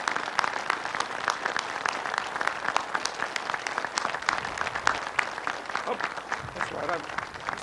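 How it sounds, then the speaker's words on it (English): Applause for the Navy Secretary from sailors at an all-hands call at Naval Submarine Base Kings Bay, sustained clapping with distinct crisp hand claps across the crowd, steady and moderately loud from start to finish. "Shipmates, let's give Secretary Mabus another round of applause."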